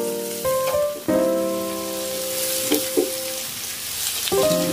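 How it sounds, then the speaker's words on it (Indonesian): Salted anchovies stir-fried with tomato and tauco sizzle steadily in a pan, with a spatula scraping and clinking against the metal several times over the continuous frying hiss; background music plays along. "Aduk-aduk tumis kembali sampai teri sekiranya setengah matang atau sampai matang juga"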